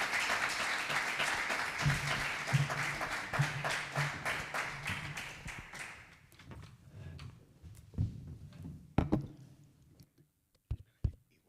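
Sustained audience applause for a speaker at a lecture, dense clapping fading after about six seconds into a few scattered final claps.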